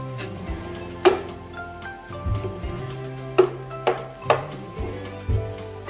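Spices (black pepper, cumin powder, crushed red pepper) mixed into stuffed bell pepper filling of ground beef and rice, with a spoon knocking against the bowl in scattered clinks and a low rubbing scrape between them.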